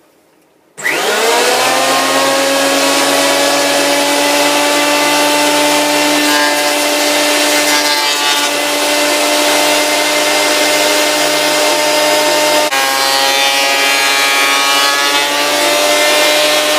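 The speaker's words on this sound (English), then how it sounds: "I'm just going to run it through my planer." A power planer surfaces a piece of wood, starting abruptly after a quiet second and then running as a loud, steady whining machine drone to the end.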